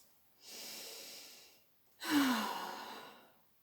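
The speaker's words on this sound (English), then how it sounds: "Take a deep breath." Two slow, deep breaths close by, a long inhale followed by a louder exhaling sigh, with no other sound around them.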